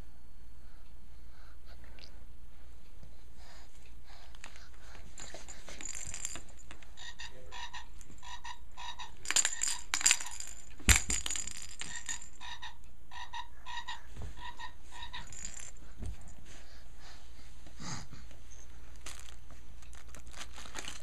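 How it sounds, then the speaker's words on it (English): A frog croaks in short, close bursts over quiet background hiss, with a few crinkling and handling noises mixed in. "There's your frog."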